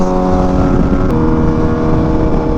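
An Italian motorcycle engine and exhaust drone loudly and steadily at cruising speed, a constant dense rumble with no pauses or revving changes.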